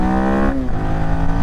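An AJP PR7 motorcycle engine accelerates with a loud, close harmonic whine that climbs in pitch, drops briefly at a gear change, then keeps pulling.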